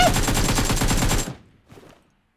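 Gunfire in PUBG Mobile comes as a loud, rapid automatic burst that cuts off abruptly, followed by one short fainter echoing shot.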